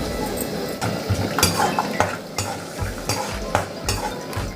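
A spoon scrapes and stirs peanuts and split dals sizzling in hot oil for a South Indian tempering, with steady frying and frequent metallic clinks against the pan.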